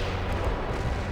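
Mortar fire coming in during a World in Conflict battle, a dense, low rumbling barrage of distant impacts filling the short stretch without a break.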